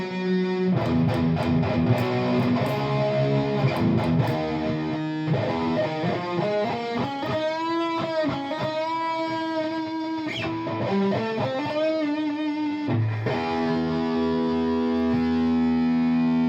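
Electric guitar played through an Arion Hott Watt amplifier with heavy distortion, sustained chords and sliding bends ringing loud and fuzzy, with brief pauses between phrases.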